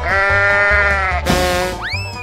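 A sheep bleats loudly and close, a long wavering cry followed by a shorter rising call, with a cartoonish boing-like sweep over a bouncy background tune in a children's animal-sounds game.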